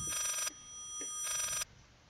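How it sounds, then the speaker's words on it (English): A telephone rings backwards in the horror game Layers of Fear, two loud bursts of reversed ringing separated by a pause, heard alone and followed by a quieter tail. "A phone is ringing backwards."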